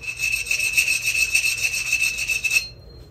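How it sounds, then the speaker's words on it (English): A hand file rasps steadily across a weld bead on metal in rapid, even back-and-forth strokes, close and fairly loud, then stops abruptly near the end. "A hand file will get the job done if you don't have access to power tools"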